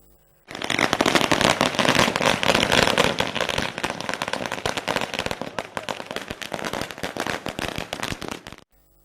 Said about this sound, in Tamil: திரு டி டிவி தினகரனை திரளான பொதுமக்கள் மேலதாளம் முழங்க பட்டாசு வெடித்து உற்சாகத்துடன் வரவேற்றனர்